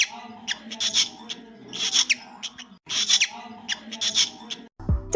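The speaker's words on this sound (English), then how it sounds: "This is female mating call." A female cockatiel gives her mating call, a run of shrill, whistling chirps repeated in close bursts about once a second, near and fairly loud, with a brief lower rustle at the end.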